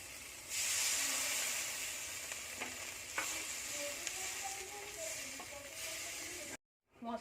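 Spiced curry paste sizzles and hisses in hot oil for pangasius fish curry as water hits the pan, a loud steady frying roar with small clatters of stirring, cutting off abruptly near the end.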